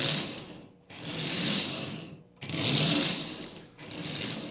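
A Marx 595 toy train locomotive runs after an E-unit repair, a steady close mechanical whirring and gear rattle in long runs separated by brief stops as it switches between forward and reverse.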